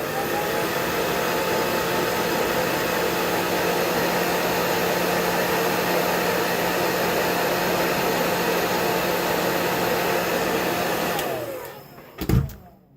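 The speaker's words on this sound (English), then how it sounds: "now take your handy dandy hairdryer and you blow up" A handheld hairdryer blows steadily on mascara-coated eyelashes, a loud continuous whooshing roar that runs for about eleven seconds, then cuts off abruptly with a brief switch clunk.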